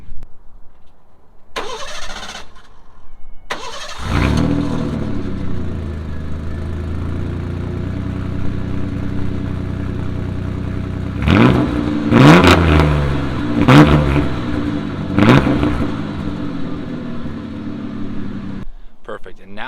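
A used truck engine cranks and catches on a cold start, then settles into a steady idle before several sharp revs climb and fall, with a person talking at times over the running engine.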